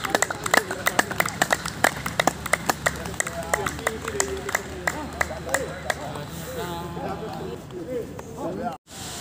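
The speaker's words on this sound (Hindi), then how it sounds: "मारो ताली।" Scattered audience clapping at an outdoor gathering, sharp irregular claps at first then thinning out, with voices talking throughout and a brief dropout near the end.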